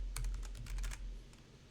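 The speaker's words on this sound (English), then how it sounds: "I'm using my clanky keyboard here" Rapid clacky keystrokes on a clanky computer keyboard, about a dozen close crisp taps in a quick burst followed by a single tap after a pause.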